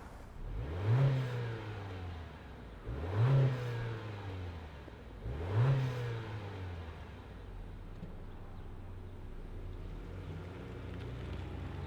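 The engine of a 2025 Acura ADX A-Spec SUV gives three separate rising rev bursts a couple of seconds apart, then settles into a steady, fairly quiet low hum as it moves off.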